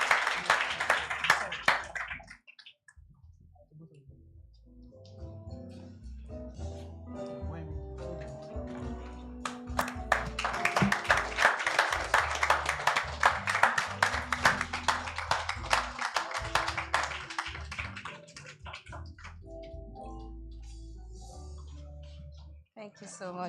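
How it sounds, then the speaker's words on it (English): Audience applause at a Family Business Summit 2024 award presentation, starting with scattered claps and swelling into sustained clapping, with speech heard before and through it. "A round of applause as they take the pictures and present the award."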